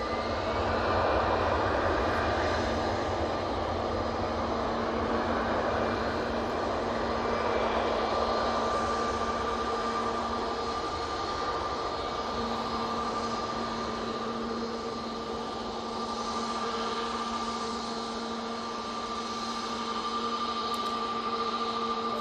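An EasyJet airliner departing Manchester Airport for Amsterdam gives a steady, sustained engine roar with a broad rumble and a faint whine, held at a fairly even level throughout without talk.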